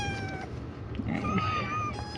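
A pet cat meows at home, a few short, moderately loud calls rising over a cluttered indoor background with faint household noise.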